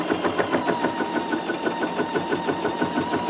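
A long-arm quilting machine stitches an edge-to-edge pattern across a quilt, giving a steady, close mechanical whir with a fast rhythmic pulse of the needle that stays even throughout.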